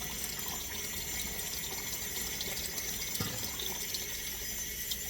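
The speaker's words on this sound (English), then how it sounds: "we'll rinse our rice and we'll add it in." Tap water runs steadily into a kitchen sink while rice is rinsed, a soft, continuous hiss and splash at low volume with no voices.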